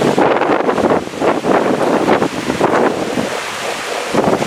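Storm wind and sea waves on a beach, loud gusting buffeting the microphone over surging surf that rises and falls in repeated waves.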